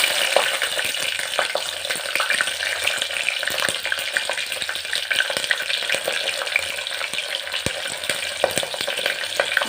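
Green chillies fry in hot oil for a vegetable biryani, a continuous crackling sizzle with spattering pops and scattered stirring clicks, even and fairly close throughout.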